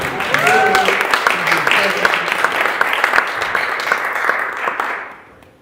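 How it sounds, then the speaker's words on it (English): An audience at a Sunday service applauds a singer after a song, a loud, sustained burst of clapping with voices mixed in that tapers off at the end. "Another round of applause for Stephen"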